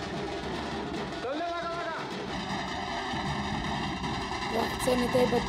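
A tractor engine idles at a farmers' tractor protest rally heading toward Nagpur, a low steady rumble running the whole way under a voice and other overlapping sound.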